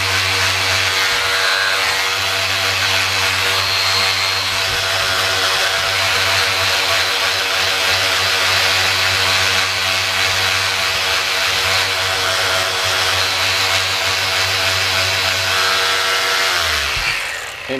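Motor-driven buffing wheel polishing the forks of a Yamaha FZR motorcycle under restoration, a loud steady whirring hum with a strong low drone that runs continuously at close range and cuts off near the end.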